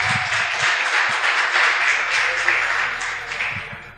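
A church congregation applauds as a steady wash of clapping that is loud and close, with a voice speaking over it.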